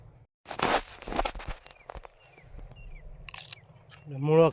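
A fresh radish bitten up close, with a few loud crisp crunches early on followed by quieter chewing, and a brief voice at the end.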